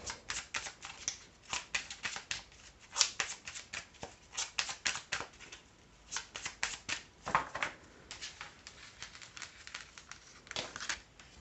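A deck of cards is shuffled again and again, quick crisp riffling bursts repeating steadily, close and fairly quiet with no talking.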